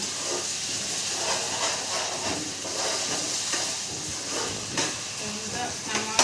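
Tomato frying in a pan on low flame, a steady close hiss and sizzle with soft scraping stirs throughout, a voice speaking over it at times.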